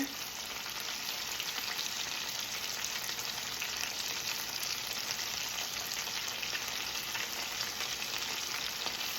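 Mozzarella sticks fry and get flipped in a pan, giving a steady, dense sizzle that runs evenly the whole time with no talking.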